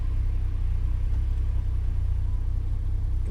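Car engine revving as the accelerator is pressed, a deep steady rumble held at constant level close by, with no talking.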